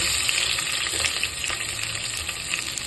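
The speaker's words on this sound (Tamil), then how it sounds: "இந்த சமயத்தில் வந்து நம்ம வெங்காயமும் கருவேப்பிலையும் சேர்த்துக்க போகிறோம்." Onion and curry leaves sauté in hot oil in a pan, giving a steady, close sizzle with a faint crackle, and nobody speaks.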